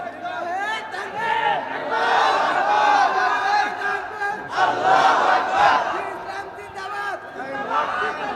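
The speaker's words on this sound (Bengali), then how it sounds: "কিছু যুবক দাঁড়িয়ে তাকবীর দাও" A crowd of young men at an open-air religious sermon gathering raises a loud, rising-and-falling collective chant of takbir, with many voices shouting together in waves that swell and surge over the whole stretch.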